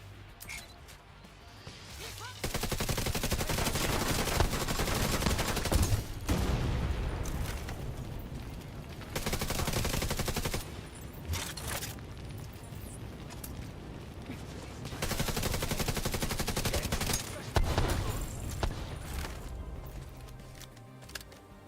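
Bursts of rapid gunfire and sharp crashes from the video game The Division 2 come in loud waves, separated by quieter stretches, with mechanical clicks between the volleys.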